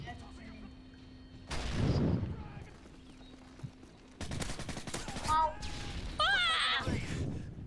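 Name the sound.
P90 gunfire in video game Modern Warfare 3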